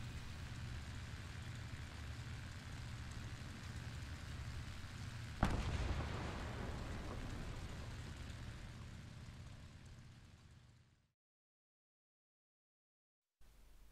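A single bomb detonation in War Thunder Ground RB breaks through a steady engine drone with a sharp, loud burst, followed by a rumbling tail that fades before the sound cuts out.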